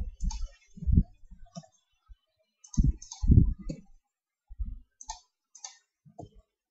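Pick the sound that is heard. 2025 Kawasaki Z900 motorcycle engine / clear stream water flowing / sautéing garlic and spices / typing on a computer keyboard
typing on a computer keyboard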